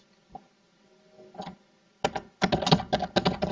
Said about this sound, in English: And we want to start typing